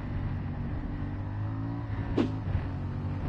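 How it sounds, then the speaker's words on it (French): A CFMoto MT450 motorcycle on its stock exhaust, a steady engine drone with a sharp rev flaring up near the end and then easing back, heard outdoors in mountain country. "je suis en échappement d'origine sur cette moto et le son, il n'y a pas besoin de plus"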